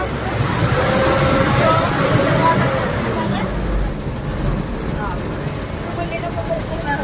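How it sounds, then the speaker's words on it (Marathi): Roadway jam with buses and cars backed up at a railway gate in Maharashtra, a steady close engine rumble and idling traffic noise, continuous and fairly loud, with people talking nearby. "किती लांबपर्यंत ट्रॅफिक जाम."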